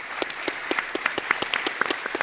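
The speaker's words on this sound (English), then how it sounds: "I don't want to clap for myself." Audience applause at a 2018 Ethereum meetup on proof of stake, steady dense clapping with sharper individual claps standing out, moderately loud and continuous for a couple of seconds, no speech.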